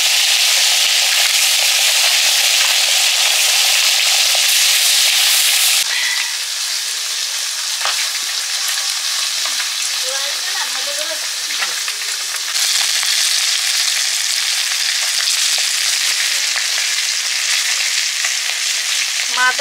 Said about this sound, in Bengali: মাছের মাথাগুলো প্রথমে ভেজে নিচ্ছি।